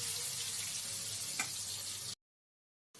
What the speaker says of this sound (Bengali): ভালো করে আলুটাকে ভেজে নেব।